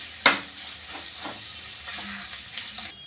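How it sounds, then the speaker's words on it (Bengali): Dried spices, chillies and tomato fry in oil in a pan, giving a soft continuous sizzle with a sharp clink of a utensil at the start and light stirring scrapes, close and fairly quiet. "দিয়ে সমস্ত কিছু মশলা ভালো করে কষিয়ে নেব।"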